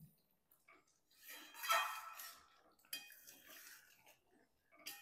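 A spatula stirs chicken chorbi curry in a cooking pot, giving a few quiet, intermittent scraping and clinking strokes separated by near silence.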